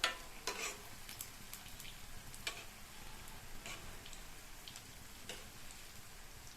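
Rava sweet bonda fry in hot oil in a pan with a soft, continuous bubbling hiss broken by scattered quiet pops and ticks.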